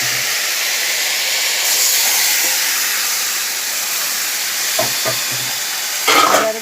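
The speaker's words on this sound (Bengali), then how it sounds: "ম্যারিনেট করে যে রেখেছিলাম চিকেনটা, এবার আমি সেটা ঢেলে দেব" Marinated chicken coated in mustard oil fries in a hot pan with a steady, close sizzling hiss, broken near the end by a few stirring clatters.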